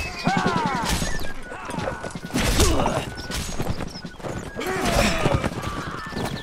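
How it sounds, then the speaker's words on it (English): In the Napoleonic Wars mode of Mount and Blade Warband, horses gallop with rapid clip-clopping hooves and let out several loud neighs amid battle clatter and scattered shots. "Horses everywhere!"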